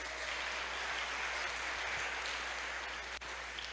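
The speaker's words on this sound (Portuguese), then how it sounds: "Vamos aplaudi-lo por isso" A church congregation applauds during a sermon, a dense even wash of clapping that holds steady throughout without voices on top.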